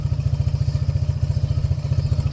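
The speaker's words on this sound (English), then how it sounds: "Now it's idling a little too high," A Yamaha 80cc four-wheeler engine idles steadily, a close, loud low putter with a fast, even pulse and slight clatter, running alone with no voices.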